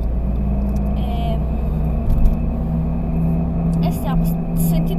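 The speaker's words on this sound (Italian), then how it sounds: "stiamo sentite questo rumore assurdo perché sono con la macchina di mia mamma" Car belonging to the driver's mother, heard from inside while driving, gives a loud, steady, strange low rumbling noise that drones on throughout, with brief swells and occasional faint higher tones over it.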